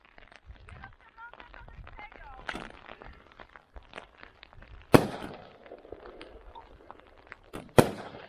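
Golden falling crackling fireworks burst sharply twice, a sizzling crackle trailing after each, over steady rain and occasional talk nearby.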